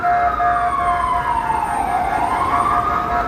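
An ambulance siren wails on a New York City street, a loud tone sweeping slowly down and back up over a continuous bed of traffic noise.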